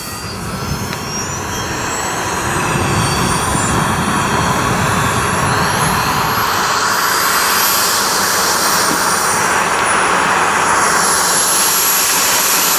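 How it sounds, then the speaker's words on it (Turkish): A helicopter takes off nearby, and its roaring engine and rotor noise build over the first couple of seconds. The sound then holds loud and steady with a whining high tone, with no talk over it. "Ah lanet olsun, helikopter yine kalkıyor."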